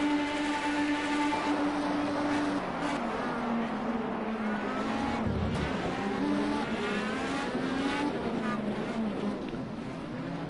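Engines roar steadily from IndyCar-style racing cars in Project Cars 2 during a pile-up and spin, with a continuous loud drone and shifting pitch as cars pass, and faint commentary underneath.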